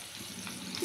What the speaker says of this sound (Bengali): সেদ্ধ আলুটা একটু ভেজে নেব।